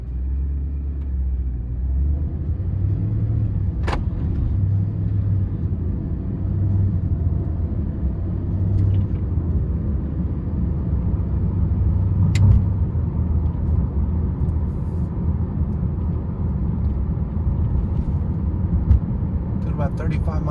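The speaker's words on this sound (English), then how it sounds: "you can hear road noise, you can hear any rattles this may have" A red 2012 Mercedes-Benz SLS AMG cruises at low speed, a steady low rumble of engine and tyre road noise with occasional faint clicks and rattles and a person talking over it.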